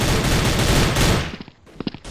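Rapid bursts of loud gunfire from a video game fill the first second, then break into a few scattered, sharper single shots.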